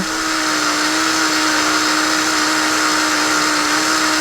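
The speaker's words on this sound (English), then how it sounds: "I think this drill bit's pretty dull." A dull drill bit grinding through plastic, a loud continuous whine with a steady pitch that runs unbroken from start to finish, close by and without speech.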